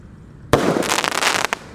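An 8-shot firework lit in a hole in the ground bursts into life with a sharp bang, followed by a dense crackling, hissing spray and a final pop, loud and close.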